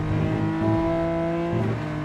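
A race car engine in a racing video game drones with steady tonal harmonics, pitch shifting as it changes revs, loud and continuous with a synthetic, game-like quality.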